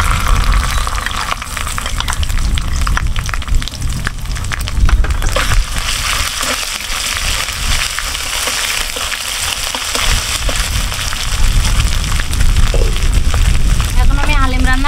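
Ginger and garlic frying in a pan for homemade haleem, a steady sizzle and crackle running throughout at close range, with a few clinks near the end.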